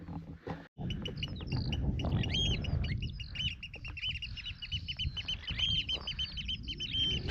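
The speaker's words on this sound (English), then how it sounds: "Oyster catchers, I think those ones are." Oystercatchers call along the Dunbeath Strath path in Caithness in the Scottish Highlands, giving repeated shrill piping notes that overlap at moderate distance above a low outdoor rumble.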